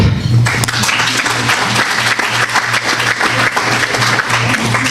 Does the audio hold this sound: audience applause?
yes